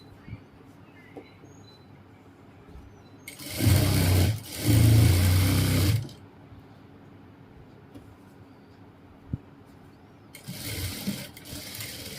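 A sewing machine stitching trousers runs in two loud bursts, the second briefly pausing, then a fainter third run near the end, with quiet room sound between.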